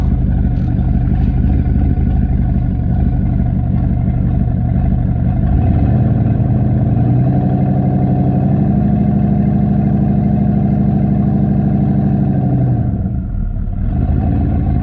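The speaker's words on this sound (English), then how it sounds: "Let's do reverse burnouts." A truck with a Holley Terminator X Max engine controller and a rebuilt 4L80E transmission doing reverse burnouts. Its engine drones loud and close, the revs swell to a long high-rpm hold, then drop back.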